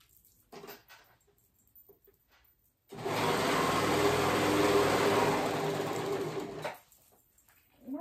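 An electric sewing machine stitching a dog hoodie runs in one steady, loud, continuous whir for about four seconds, then stops, with quiet handling sounds before and after.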